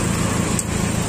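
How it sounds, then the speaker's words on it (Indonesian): Idling engine of a 2016 Daihatsu Xenia X fitted with a racing exhaust, a steady close hum with a throaty low rumble and no speech. "Mesin halus, hanya saja sudah dikasih knalpot racing."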